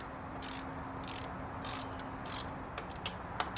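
A ratchet wrench snugs down the throttle body bolts on a 2007 Subaru Tribeca, giving short bursts of quiet rapid clicking in an uneven rhythm, then a few sharper isolated ticks at the end.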